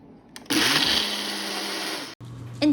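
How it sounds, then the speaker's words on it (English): A Ninja blender whirs loudly and steadily for about one and a half seconds as it blends tea lemonade with ice, starting abruptly and cutting off near the end, with brief quieter handling noise before and after. "This is what the mixture looked like prior to putting it in my Ninja blender."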